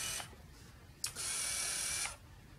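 A Minolta Maxxum AF 9000 camera gives two short, close electronic confirmation beeps as autofocus locks, a brief one and then a longer tone about a second long, with quiet between them.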